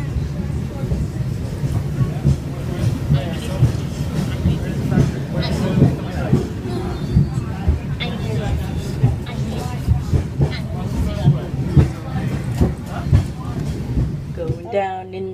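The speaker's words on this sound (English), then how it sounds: "On the tram, going down." A steady low rumble and rattle of a tram rolling downhill along its track, with people talking throughout over the vehicle noise.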